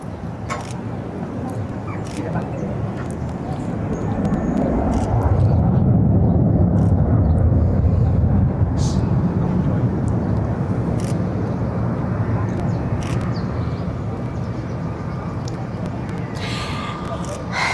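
A Delta airliner departs Barcelona airport, a broad, distant jet roar swelling to a peak and then slowly fading, with people talking over it and a few sharp clicks.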